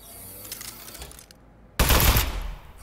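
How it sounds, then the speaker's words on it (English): The Aperture Science Turret in Aperture Desk Job opens fire in a sudden loud, sustained burst after a brief quiet, preceded by faint game sounds. "Presenting the Aperture Science Turret. Go on, take it for a spin."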